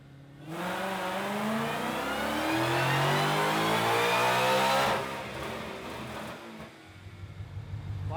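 A boosted 2019 Mustang GT V8 on a dyno pulls hard, its loud engine note climbing steadily in pitch for about four seconds, then cutting off and settling into a rough, burbling idle.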